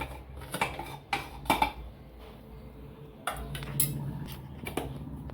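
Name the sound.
taking boiled pumpkin out of the pressure cooker pot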